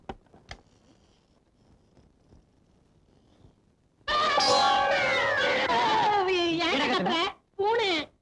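Close, loud cat meows in a house during a Tamil comedy scene, a long run of drawn-out wailing cries following a quiet stretch, then one more short meow after a pause.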